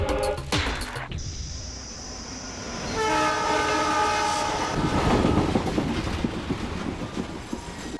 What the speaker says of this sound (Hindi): मैसूर से आने वाली पैसेंजर ट्रेन अब कुछ ही मिनटों में प्लेटफॉर्म नंबर 6 पर पहुंचने वाली है